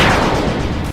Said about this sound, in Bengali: গাইজ, এবার তোমাদের এই কাঠের টুকরোটা ড্রিল করে দেখাবো